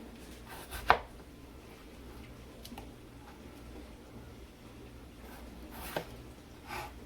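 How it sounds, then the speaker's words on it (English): A knife slices potato planks into French fry sticks, giving a few sparse, quiet chopping thuds on a board against a faint background. "you're going to cut 3/8 of an inch again to get your french fry sticks"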